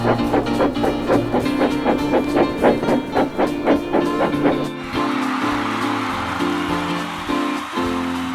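A train rumbles close by with rhythmic clickety-clack of wheels over rail joints, shifting into a steady, droning roar partway through.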